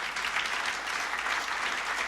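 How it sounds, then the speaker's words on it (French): Steady, dense clapping from a church congregation fills the whole stretch at an even level, with no voices breaking through. "Est-ce qu'on peut applaudir le Seigneur?"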